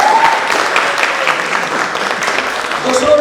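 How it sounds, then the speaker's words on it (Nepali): An audience at a BBA orientation breaks into hearty applause for teachers, a close, continuous clatter of many hands lasting about three seconds, with voices mixed in. "ती टिचरहरूलाई सम्झेर बहुत जोरदार ताली एकचोटि बजाउनु पर्छ।"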